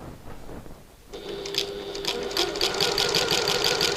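A sewing machine stitches a button lock bag at regular stitch length, starting at the bottom corner; steady rapid mechanical whirring begins after a quiet second and runs close and continuous to the end.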